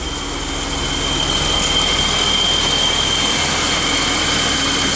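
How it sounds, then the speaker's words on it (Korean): A classic BMW 635 CSi engine runs steadily after starting in a garage, heard close up from the engine bay as a continuous loud mechanical hum with a thin high whine over it and no talk. "제가 이 BMW 635 CSI의 엔진 시동음을 상당히 좋아합니다"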